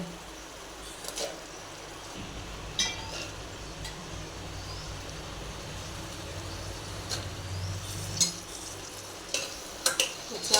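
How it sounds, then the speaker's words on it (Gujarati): Val bean curry is stirred and mixed in a pan, a low, soft sizzle under scraping spoon strokes and scattered light clinks against the metal. "આપણે વ્યવસ્થિત મિક્સ કરી લેવાનું"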